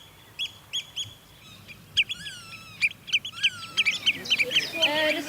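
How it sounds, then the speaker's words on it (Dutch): Black-tailed godwits and other meadow birds call overhead in open country, repeated sharp chirping calls that grow busier and louder toward the end over a quiet, low background. "de geluiden van de overvliegende vogels, de grutto's en andere weidevogels"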